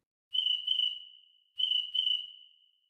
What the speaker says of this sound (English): I'm going back to the cricket toy version.